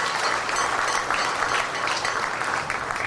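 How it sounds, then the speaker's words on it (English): An audience at a Ganesh Utsav festival event breaks into a dense, steady round of applause, loud and continuous for the whole stretch with no voices over it. "Let us give them a wonderful round of applause."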